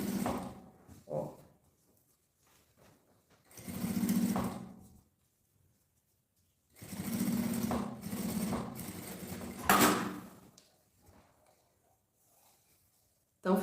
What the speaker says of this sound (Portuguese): E vamos passar uma costura aqui.